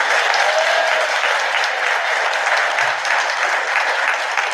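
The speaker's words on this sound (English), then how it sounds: "We should give her another round of applause" A town hall audience on gun safety breaks into sustained applause, dense and loud clapping that holds steady from start to finish with no talk over it.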